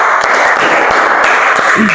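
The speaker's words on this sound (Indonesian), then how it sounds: "Oke, tepuk tangan buat kelompok 2." A class of students applauds a presenting group in a Christian religious education lesson, a loud, continuous wash of clapping heard close by with no break.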